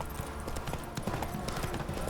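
Horse hooves clip-clopping at a steady walking rhythm in the video game The Witcher 3, close and continuous over a short stretch.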